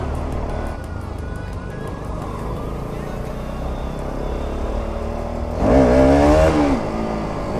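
A scooter engine, ridden two-up through a busy fair crowd, revs hard at full throttle, rising to a loud, near whine toward the end over a steady background of traffic and crowd noise.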